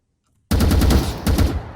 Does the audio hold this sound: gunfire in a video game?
yes